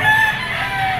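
Young roosters, stags, crow at a poultry auction market, one loud drawn-out crow held close by over a steady background of birds and crowd noise.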